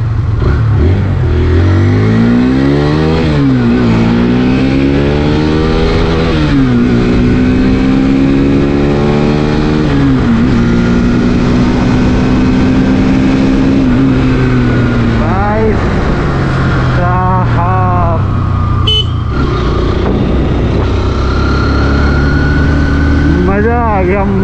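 A 2023 Hero Xtreme 160R 4V motorcycle on a test ride, its engine loud and close, revving up and dropping back repeatedly through gear changes, with pitch climbing and falling in a steady cycle.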